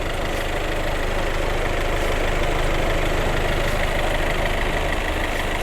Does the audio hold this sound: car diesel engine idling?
yes